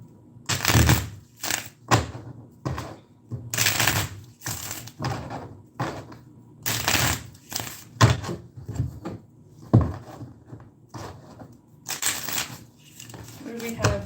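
Tarot cards are shuffled in repeated bursts of riffling and slapping, close and crisp, with short pauses between each shuffle and some quiet handling sounds.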